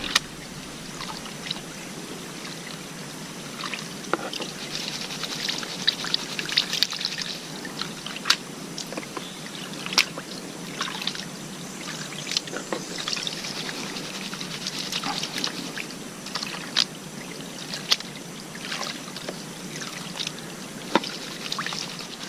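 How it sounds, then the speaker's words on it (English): Water sloshing and swirling steadily in a shallow gold pan while panning for gold, with small splashes and drips, close by and continuous without any talking. "I like just to do a quick pan here just to see what we got."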